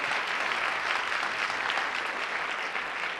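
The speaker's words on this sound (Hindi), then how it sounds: "जोरदार तालियां।" Loud, dense applause from the audience at the Indian Television Academy Awards 2004 ceremony, a steady wall of clapping that holds at full strength for a few seconds without pause.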